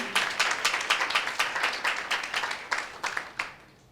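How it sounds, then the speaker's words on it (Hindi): Church congregation giving a hearty round of applause during worship, steady dense clapping from many hands that swells in bursts and tapers off near the end. "एक जोरदार ताली फिर से प्रभु के लिए।"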